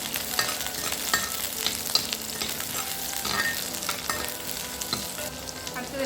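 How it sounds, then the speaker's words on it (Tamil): Small onions hitting hot oil in a pan for a Chettinad crab masala, giving a steady, close, loud sizzle and crackle with occasional stirring scrapes throughout, no talking. "இப்போ எண்ணெய் சூடு வந்துடுச்சு. நான் அதில் வந்து சின்ன வெங்காயத்தை சேர்த்துக்கிறேன்."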